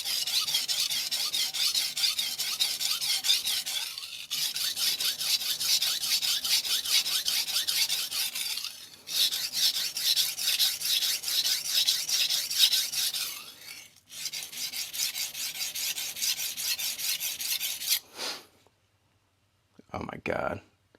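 A knife blade is rasped back and forth on a 400-grit vitrified diamond whetstone in long gritty strokes, close and loud, pausing a few times between passes.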